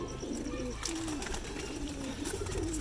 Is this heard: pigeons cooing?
yes